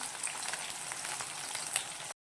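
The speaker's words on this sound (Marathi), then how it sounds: "हे आपल्याला तेलला टाकायचे आहे अशा प्रकारे तेलात आपल्याला परतून घ्यायचे आहे" Sliced potatoes frying in hot oil, a close, steady hiss and crackle that holds level for about two seconds and then cuts off abruptly.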